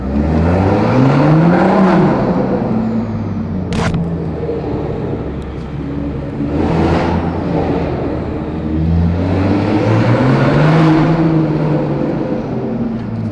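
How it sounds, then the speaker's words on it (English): Toyota Supra turbo spooling and whooshing as the car drives out of a parking garage, engine rising and falling in three repeated pulls with a whistling whoosh over the low engine drone, loud and close. "see if we can hear the turbo a little bit here"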